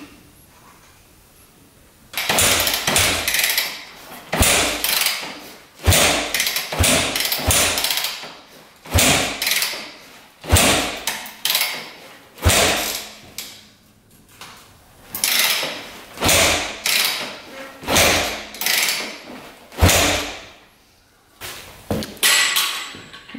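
A rebuilt street-legal dirt bike being kicked over again and again without starting: about fifteen sharp mechanical strokes in an irregular rhythm, each a loud clunk and brief churn of the engine turning over, close by, with short pauses between kicks.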